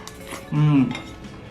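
A spoon scrapes and clinks briefly against a bowl of tofu stew with rice, a single close, short metallic ring in a quiet room.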